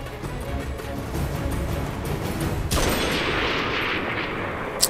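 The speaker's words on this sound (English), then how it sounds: "Take the bloody shot. Now!" Gunfire in the 007 Legends video game, Goldfinger Auric Enterprises level: dense, loud rumbling shots and noise run throughout, with a sharper burst near the middle and a brief crack at the end.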